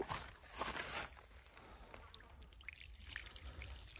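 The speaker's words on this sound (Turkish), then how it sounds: "Su direkt aşağıya mezara akıyor." Water is poured out and trickles down into a grave on a hillside, a faint uneven dribble with a few soft splashes and scuffs nearby.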